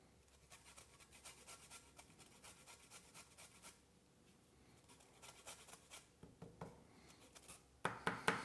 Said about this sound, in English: we're going to take 6 limes and we're going to zest all of the peel off of it